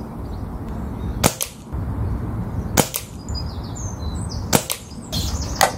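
Scoped air rifle firing at a target 25 yards away: three sharp, close cracks spaced evenly over quiet outdoor background, with faint birdsong between.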